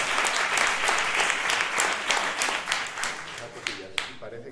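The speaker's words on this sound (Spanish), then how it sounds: "un aplauso a Clara Campoamor." Audience applause at an interview session, a sustained wash of many hands clapping that thins out near the end, moderately loud.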